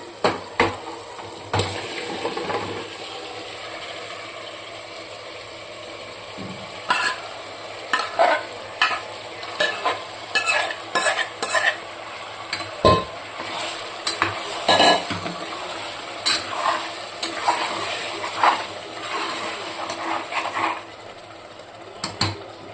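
Steady sizzling of chicken frying in a pressure cooker, with repeated clattering scrapes of a spoon stirring throughout.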